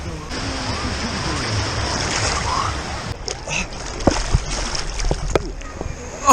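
Mediterranean Sea waves wash and splash at a sandy beach, a constant hiss of surf with sharper sloshes later on, and a voice speaks faintly in the background.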